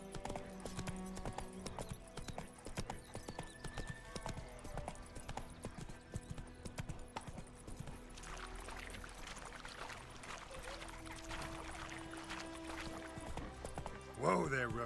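Hooves of the horse Roach clop in a fast galloping rhythm in The Witcher 3 video game, steady and moderately loud, with game sounds layered over it and a brief louder burst at the end.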